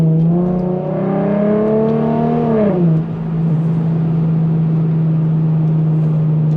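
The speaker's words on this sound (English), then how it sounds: "I really love this exhaust. On the 37 VHR motors, I love this exhaust. This sounds so good." An Infiniti G37 with the VHR V6 and a loud exhaust pulls hard in manual mode, the exhaust note rising steadily under load. It then drops sharply on a shift and settles into a steady, close, droning hum.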